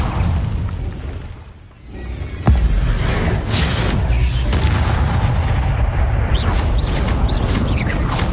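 An Incendio fire spell is cast in Hogwarts Legacy, and a sudden loud whooshing burst of flame hits mid-clip. It follows a dip and rumble, and is followed by sustained roaring crackle.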